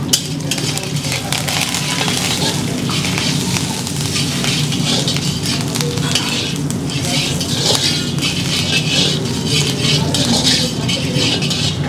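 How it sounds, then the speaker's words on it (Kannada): Dried red chillies frying in hot oil for a tempering: a loud, dense, continuous sizzle and crackle that runs evenly for the whole stretch. "ಈಗ ಒಣಮೆಣಸಿನಕಾಯಿ ಕೂಡ ಫ್ರೈ ಆಗಿದೆ ಎಣ್ಣೆಲಿ"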